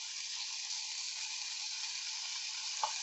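Pork sizzles steadily in a hot pan, a continuous crackling hiss with a brief soft scrape near the end.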